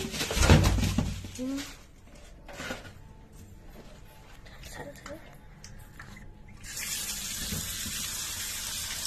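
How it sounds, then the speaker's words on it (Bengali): Kitchen tap running water over fish in a bowl, a steady rushing stream that starts late and continues to the end, after earlier handling clatter and splashing. "মাছগুলো এখানে জল দিয়ে দিয়ে দিই"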